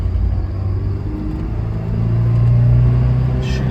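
A 1991 Alfa Romeo Spider engine drones steadily while driving, a low, continuous rumble that swells and rises in pitch toward the end as the revs build, with no talk over it.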